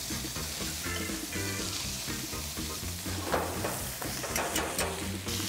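White seabass pan-sears with spinach and garlic in a hot pan, with a dense, continuous sizzle throughout and a few brief clatters as the fish is flipped, up close.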